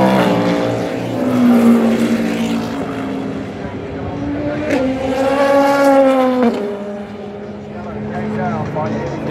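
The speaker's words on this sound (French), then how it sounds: "Ah, la Porsche est passée." A Porsche race car at the 24 Hours of Le Mans roars past, its engine tone rising and then falling as it goes by, with a commentator speaking over the sound.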